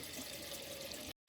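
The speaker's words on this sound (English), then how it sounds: "I'm rinsing my dishes here" Dishes rinsed under a running kitchen tap in a sink, a soft continuous hiss of flowing water that cuts off abruptly near the end before briefly resuming.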